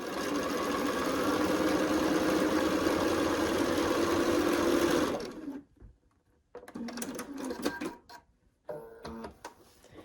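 Sewing machine stitching pieces of a triangle-in-a-square quilt block, a steady loud whirring run for about five seconds, then stops, followed by scattered fabric handling and short bursts.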